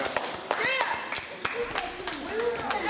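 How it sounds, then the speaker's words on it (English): At a Baltimore youth brain-games quiz, an audience claps for a correct answer: a handful of sharp, scattered claps ring out while people keep talking over them. "Clap it up for him."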